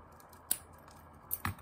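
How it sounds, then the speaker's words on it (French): Hairdressing scissors snipping small notches in paper, two or three quiet, sharp snips spaced apart over a faint background hiss. "si je fais avec le ciseau de coiffeur, faire des petits crans"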